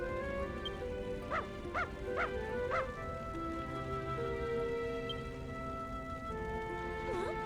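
A dog in Dragon Quest Builders 2 lets out four quick yips in a row, fairly close and clear, over soft ambient game music, followed by a brief whimpering cry near the end.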